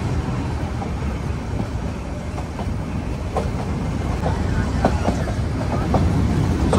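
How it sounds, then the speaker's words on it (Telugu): Ooty diesel-engined toy train rolling on rails near Coonoor station in the Nilgiris, a steady close rumble with scattered wheel clicks and rattles running throughout. "సో మన ట్రైన్ అయితే డీజిల్ ఇంజిన్తో నడుస్తుంది"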